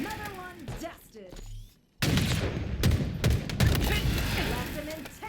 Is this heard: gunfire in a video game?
yes